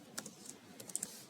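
Keys are pressed on a computer keyboard, a quick Alt and Page Down combination heard as a few faint, sharp clicks in a short burst.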